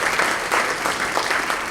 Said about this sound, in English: give the jazz band one more round of applause